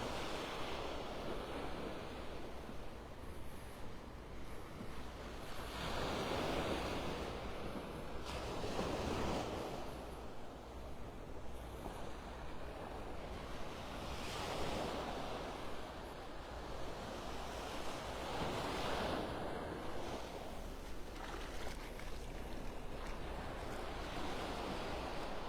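Ocean waves break on a beach in North Naples, Florida, at high tide, a steady broad wash of surf with several swelling crashes rolling in and out, mid-distance, mixed with light wind noise and no voices.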